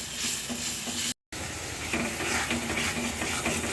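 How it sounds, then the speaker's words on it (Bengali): Garam masala powder frying in a pan with a steady broadband sizzle and occasional stirring scrapes, continuous apart from a brief cut of silence near the start. "এখন এই মশলাটা আমি ভালো করে কষিয়ে নিব।"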